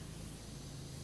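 A pressure washer sprays steadily in the PowerWash Simulator video game, giving a continuous broad hiss at low level with no talking over it.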